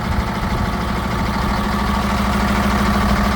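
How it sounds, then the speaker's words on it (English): A 2019 Hino 268A box truck's diesel engine idles steadily and up close, a constant low rumble with an even mechanical hum and no voices. "Let's take a look on the engine."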